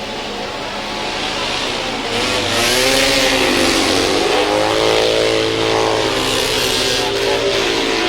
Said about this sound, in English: The bike in second position is actually a twin-engine bike